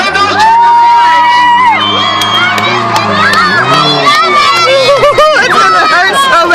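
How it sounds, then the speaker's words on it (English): A crowd cheers at a Tuff Truck competition at the Yuma County Fairgrounds, with children shouting, whoops and loud excited babble that carries on without a break. "Cheer them on, guys!"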